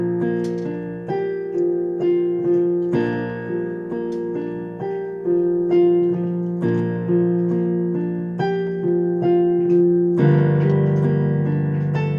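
Piano plays the intro of a song with both hands together, a repeated bass note under chordal right-hand phrases, steady and moderately loud with sustained ringing decay, no voice.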